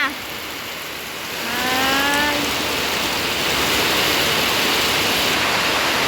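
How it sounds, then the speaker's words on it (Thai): Heavy rain pours down in a rural farming setting, a dense steady hiss that swells and holds loud throughout, with a brief faint bird call early on and no clear talking. "ฝนกระเทลงมา"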